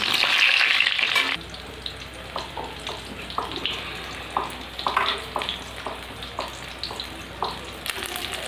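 Batter-coated chilli chops sizzle loudly in hot oil at first, then the frying dies down to a quieter background hiss punctuated by scattered clinks and handling knocks.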